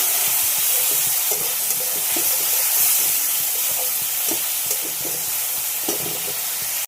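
Onion frying in mustard oil, a dense, even sizzle close up with faint scraping as it is stirred, steady throughout with no voices.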